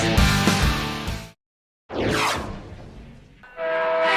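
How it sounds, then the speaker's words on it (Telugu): A train horn sounds loud and near as the train starts moving, in two long blasts broken by a short silence, with rail rumble and a whooshing pass between them. "అయ్యో ట్రైన్ కదులుతుంది రావే"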